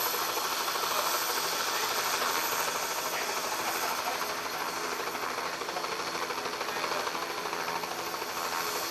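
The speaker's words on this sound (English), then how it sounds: "Now I can hear the rotor blades picking up speed to lift off." An Air-Evac medical helicopter on a football field's 50-yard line spins its rotor blades up for lift-off, producing a loud, steady broadband whoosh and hiss that fills the whole stretch.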